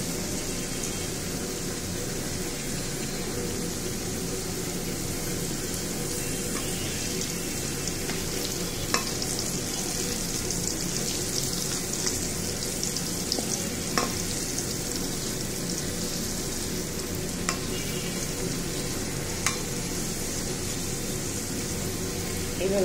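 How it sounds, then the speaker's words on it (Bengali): Potato fries coated in flour, salt and chili flakes sizzle steadily in hot oil, a dense continuous frying hiss with occasional faint clicks, close and even throughout with no talk. "মিক্স করে এখানে আমি তেল গরম করে তেলের ভিতরে ছেড়ে দিয়েছি"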